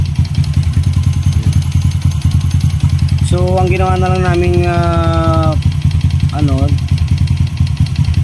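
A Honda RS 125 motorcycle engine with a damaged piston idles close by with a rough, rapid rhythmic knocking beat, while someone speaks over it.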